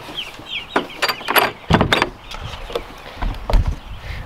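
Chickens cluck and squawk in a lively, irregular flurry, several birds close by, with scuffling noises in between.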